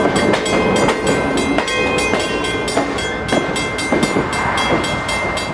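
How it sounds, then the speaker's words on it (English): Amtrak passenger train number 18, the Spirit of California, rolls through Oakland's Jack London Square in 1983 with a former Northern Pacific dome sleeper at the rear. Its wheels clack loudly and steadily in rhythm over rail joints, with no voices. "train number 18 makes its way through Oakland's Jack London Square"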